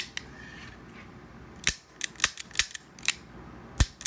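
Dry-fire trigger clicks from a Kimber K6s DASA 2-inch revolver, several sharp, close mechanical snaps spaced irregularly over a quiet background, with no talking.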